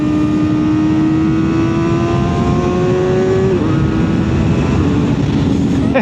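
A Kawasaki ZX4RR motorcycle with a quick shifter accelerates hard, its engine whine climbing steadily before a sudden drop at an upshift, then pulling again, loud and close.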